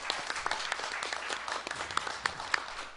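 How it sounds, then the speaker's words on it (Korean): A crowd applauds steadily at an academic conference for a Won Buddhist service organization's 40th anniversary, with scattered louder individual claps standing out from the fairly quiet, continuous clapping. "박수 한번 부탁드리겠습니다."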